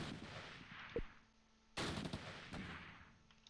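Mortar fire in the war game Close Combat Last Stand Arnhem lands as two muffled, booming impacts about a second apart, followed by rumbling, crackling decay, faint and distant in the mix.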